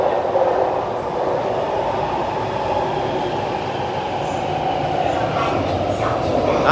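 A Taipei Metro train rumbles steadily along with a continuous roar of wheels on track and faint squeals, loud and close from inside the carriage.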